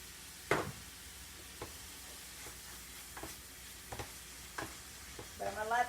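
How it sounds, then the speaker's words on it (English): Ground pork and cabbage cook quietly in a pan, a soft low sizzle broken by a handful of short spatula scrapes and stirring knocks at irregular intervals. "I'm going to let this sausage, or baked pork actually, cook down some."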